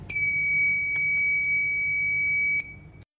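An Arduino Uno buzzer on an ultrasonic smart blind stick gives a continuous shrill electronic tone, close and steady for about two and a half seconds before cutting off abruptly.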